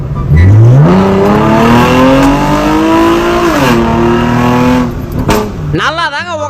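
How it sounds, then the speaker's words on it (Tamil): A powerful car engine revs up loudly and holds a high, rising whine for several seconds before dropping off. "ஒரு ஹை சிசி இன்ஜின் கொண்ட காரில் கூட்டு போயிட்டு இவனை போட்டு ஒரு முறுக்கு முறுக்க"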